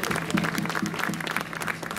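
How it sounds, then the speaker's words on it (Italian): Applause from an outdoor audience at a summer music show in the Italian town of San Mango d'Aquino, a steady dense clapping that fills the short moment at even loudness, with a low sustained hum underneath. "Facciamo un applauso."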